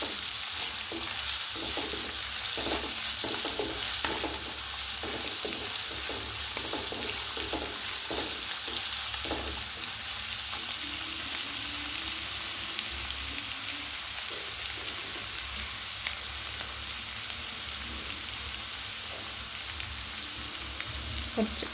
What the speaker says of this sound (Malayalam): ഇഞ്ചി, പച്ചമുളക്, വേപ്പില, കുരുമുളക് ചതച്ചത് ഇതെല്ലാം കൂടി ചൂടായ വെളിച്ചെണ്ണയിലേക്ക് ഇടാം.